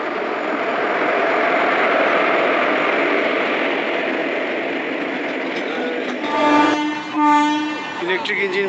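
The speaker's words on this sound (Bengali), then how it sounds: "ইলেকট্রিক ইঞ্জিন বেরিয়ে গেল" The Ranchi Kamakhya Express (15661), an Indian passenger train hauled by an electric locomotive, gives a loud, steady rolling rumble of wheels and carriages, with a couple of tonal horn blasts near the end.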